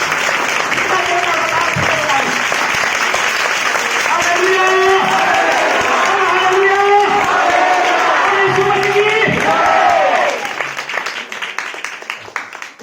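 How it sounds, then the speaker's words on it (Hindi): Loud clapping and cheering from a Sunday church congregation praising God, with shouted and sung voices rising over the dense applause, which fades out near the end. "इसके लिए आए हम जोरदार ताली बजाएं परमेश्वर को।"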